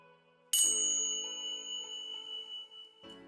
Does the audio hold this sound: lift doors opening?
no